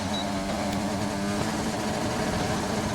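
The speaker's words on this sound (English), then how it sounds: "Apologize for the engine issue noises." Glitchy racing-car engine noise from a racing video game at the Belgium round, a dense continuous droning buzz with stuttering harmonics, loud and steady throughout with no speech.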